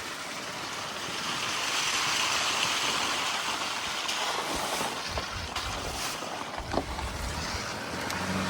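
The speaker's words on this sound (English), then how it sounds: "it's raining and just super duper beautiful" Steady rain in a Pacific Northwest rainforest near a river, a dense broadband hiss of falling water that stays even and fairly close throughout, with a few brief louder spatters and drips rising above it.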